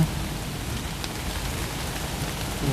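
Rain pours steadily outdoors in the Thai countryside, an even, close, continuous hiss of drops striking surfaces throughout, with no voices.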